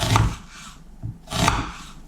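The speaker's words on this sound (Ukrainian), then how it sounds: "Нарізаю цибульку так дрібненько, наскільки це можливо." An onion being finely diced with a knife for a fried onion base. Two short bursts of close, crisp blade strikes with a soft thud between them, and no talking.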